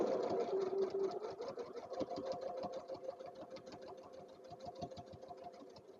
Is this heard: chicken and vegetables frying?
no